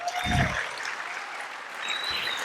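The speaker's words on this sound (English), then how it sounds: "So, a big round of applause." Moderate applause from an audience at a sports conclave in Hyderabad follows a performance, a soft, even patter of clapping with a couple of brief low thumps near the start and end.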